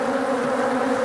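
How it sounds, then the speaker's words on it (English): Honey bees in an opened queenless hive during a split, a dense steady drone of many bees buzzing close and loud without a break. "A lot of bees."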